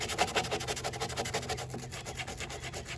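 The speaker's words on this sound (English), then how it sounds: "We keep sanding to find out" Hand sanding of Bondo filler over rivet holes on a metal panel, a close rhythmic rasping of back-and-forth strokes in a steady even pulse, with no talking.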